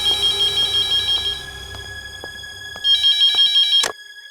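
A phone rings in a sustained electronic trill through a quiet room, a steady tone with repeating pulses that briefly grows louder before cutting off, with no talking over it.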